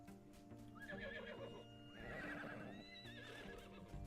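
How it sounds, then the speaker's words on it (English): A horse in the video game Everything gives two neighs, the second one longer and wavering, over faint hoof clip-clop and soft game background sound. "you're some other kind of horse, aren't you?"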